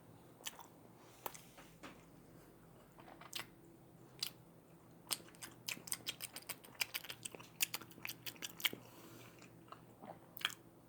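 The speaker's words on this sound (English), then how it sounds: "I'm kind of trying to make a few more chewing sounds." Wet, crunchy chewing and biting on an extra large meat-filled burrito, close to the mic, with a burst of rapid clicky bites in the middle and no talking.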